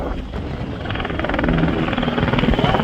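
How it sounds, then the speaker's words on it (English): A PZL-Swidnik Sokol twin-engine helicopter flying at an air show, heard as a steady rotor chop and engine roar that grows slightly louder and fuller as it nears, with no speech over it. "the Falcon, is a medium-sized, twin-engine, multi-purpose helicopter, developed and manufactured by Polish helicopter company PZL-Svidnik"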